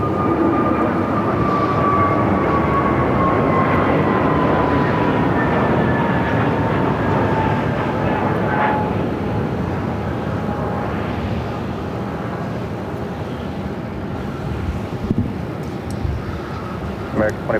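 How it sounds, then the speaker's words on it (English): An American Airlines A321neo takes off, its engine roar broad and sustained with a slowly sliding whine, fading gradually over many seconds while a person talks over it. "That flight taking off is American Airlines flight 2454 heading to Santa Ana, California, an A321 Neo"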